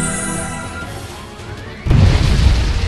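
Naval cannon fire in Abyss Horizon lands as one abrupt, deep boom after a quieter hum of battle ambience, leaving a loud rumbling tail that holds to the end.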